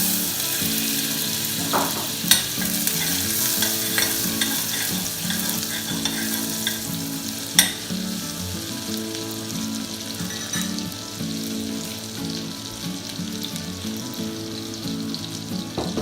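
Two tablespoons of butter sizzling in a pan as the base for a béchamel sauce, a steady crackling hiss broken by a couple of sharp pops and clinks, close and even throughout with no voices.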